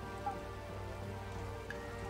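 Rain patters steadily in the strategy game Taikō Risshiden V, a soft continuous hiss beneath sustained background music tones, even in level throughout.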